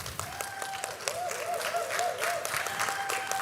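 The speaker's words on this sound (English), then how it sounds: "With a round of applause," An audience applauding a presenter at a design event on African culture, heard as sustained, dense clapping from a crowd in a hall, steady and moderately loud throughout.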